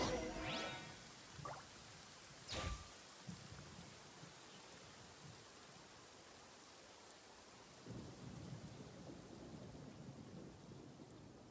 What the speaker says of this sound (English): The rain stopped.